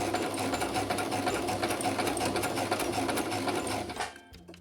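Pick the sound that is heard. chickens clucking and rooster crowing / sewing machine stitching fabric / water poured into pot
sewing machine stitching fabric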